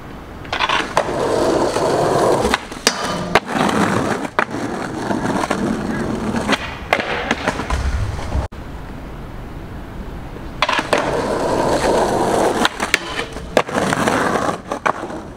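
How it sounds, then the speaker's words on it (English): Street skating: a skateboard rolls loudly over pavement with sharp pops, clacks and landings, broken by a quiet gap of a couple of seconds before the rolling rumble resumes. "I went out street skating the other day"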